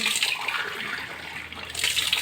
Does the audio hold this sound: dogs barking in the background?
no